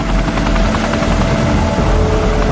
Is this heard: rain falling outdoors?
no